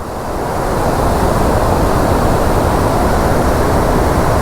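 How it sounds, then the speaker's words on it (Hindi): Fast-flowing river water at Dumboor roars in a dense, steady broadband rush, loud and close, with no break in the torrent. "पानी का फ्लो कितना तेज है"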